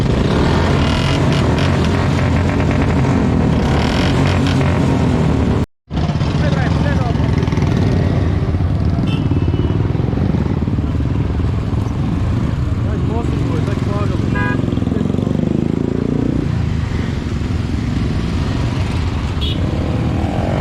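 Many motorcycles in a bike rally to Gurez Valley in Bandipora rev and rumble together at the start, a dense continuous engine roar with a brief cut partway, while people talk and shout over the noise.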